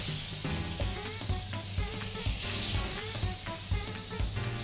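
Brown butter sizzles and crackles steadily in a pan, a close, continuous frying hiss with small popping bursts throughout, no voices.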